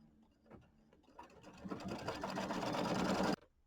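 An embroidery machine stitching stab and outline details on a Kimberbell nativity bench pillow, a fast rhythmic mechanical chatter that starts with a few slow taps, builds steadily, then cuts off abruptly, close and alone.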